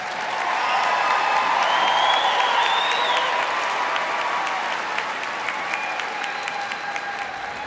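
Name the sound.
applause for master's degree recipients at commencement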